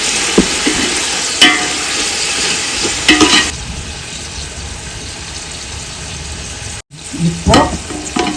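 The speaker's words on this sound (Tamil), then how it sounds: "நல்லா ஃப்ரை பண்ணணும். நல்லா மிக்ஸ் பண்ணணும்." Beef biryani masala fries and is stirred in a pot with a steady loud sizzle, spoon scrapes and clanks standing out near the start and again toward the end after a brief drop.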